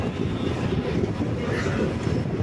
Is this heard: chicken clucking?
no